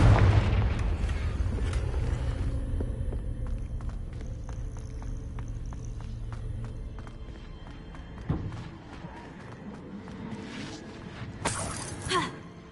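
A fiery blast spell goes off in a wizarding video game, opening with a loud booming burst that rumbles and slowly decays, followed by smaller crackling impacts and a sharp shattering crash near the end.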